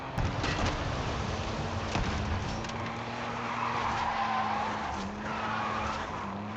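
Tires squeal as a car drifts sideways in Forza Horizon 5, a sustained skidding screech over a droning engine note that rises and shifts pitch, with no talking.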